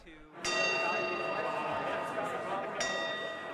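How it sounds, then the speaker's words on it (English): Bell at a hiring event, struck twice a couple of seconds apart with bright ringing tones that hang and decay over a murmur of room noise and voices. "Every 5 minutes, the bell rang, and the employers moved down the line."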